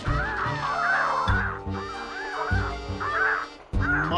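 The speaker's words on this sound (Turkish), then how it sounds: "Martı saldırısına uğradı." Seagull squawks from the Plants vs. Zombies 2 video game, a loud run of harsh, wavering cries over a steady game music bed, with a brief drop near the end before the calls resume.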